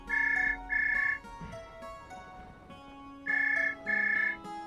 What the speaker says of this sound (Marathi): काय बाहेर फोन वाजतोय.